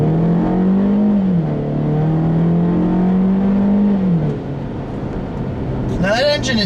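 A 2013 Mini Paceman S with its 1.6 engine drones with a buzzy, rising and falling tone at close range, pitch climbing then dropping as revs change, and a voice cuts in at the end.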